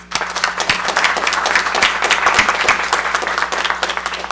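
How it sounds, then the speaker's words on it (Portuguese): A round of applause from the audience at a debate on sanitation and water resource management, dense and steady clapping from many hands filling the room at close range, with no voices over it. "Queria então pedir aqui uma salva de palmas para isso."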